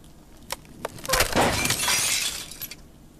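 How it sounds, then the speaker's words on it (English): A shelf crashes down in the horror game Remothered: Tormented Fathers, a loud burst of shattering glass and clattering debris lasting a couple of seconds after a few sharp knocks, with no voices over it. "maybe he'll come to the crashing of the shelf this time"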